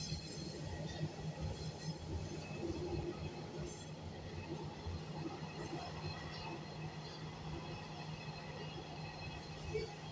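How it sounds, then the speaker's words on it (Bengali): An Agra Metro train rolls steadily into Shaheed Captain Shubham metro station, heard from inside as a continuous low rumble with faint wheel squeal and rattling, moderately quiet throughout. "আর এই যে আমাদের মেট্রো এখন শহীদ ক্যাপ্টেন শুভম মেট্রো স্টেশনে ঢুকে পড়েছে"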